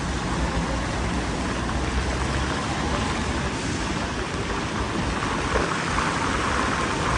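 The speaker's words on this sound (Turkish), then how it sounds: "Vay vay vay. Yağmur etkisini arttırdı." Steady, dense hiss of heavy rain, loud and continuous throughout with no gaps, drumming down on a rider on an e-scooter in traffic.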